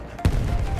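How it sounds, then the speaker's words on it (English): A single sudden explosion in Battlefield 1, a close, heavy thump that hits at once and leaves a low rumbling tail behind it. "Oh, that was a big explosion right in my face."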